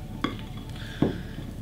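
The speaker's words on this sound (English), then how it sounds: "mix this one through. Just want to fold and make sure you've got most of the dry mixed in with the wet" Dry ingredients being folded into a wet mixture in a bowl: two soft scraping, squelching strokes about a second apart, quiet and close, with faint clinks and rustles between them.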